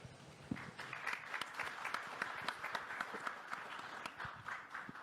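Applause at a formal public address, a faint, distant patter of many clapping hands with some sharper individual claps, steady over several seconds.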